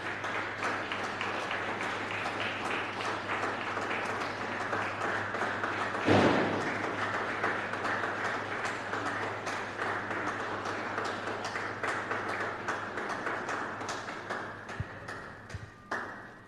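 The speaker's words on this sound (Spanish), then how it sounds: "Démosle un aplauso a Cristo el Señor." A Spanish-speaking church congregation claps during a Sunday service, a soft, fairly distant wash of many hands with scattered sharper claps and one louder thud partway through.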